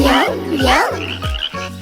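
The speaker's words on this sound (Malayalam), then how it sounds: "2 കുഞ്ഞൻ തവളകൾ മരത്തടിയിലിരിക്കുന്നു" Small frogs croak in quick repeated calls, close and loud, with a low rhythmic pulsing beat underneath and a voice gliding up and down alongside.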